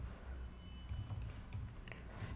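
Computer keyboard typing while writing code, a quiet run of soft, irregular key clicks close to the microphone over low background hum.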